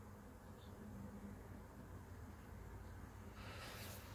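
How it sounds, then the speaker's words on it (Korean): Cicadas droning outside on a summer day, a faint continuous buzzing hiss heard from indoors at moderate distance, with a steady low background rumble. "밖에 지금 매미 소리가"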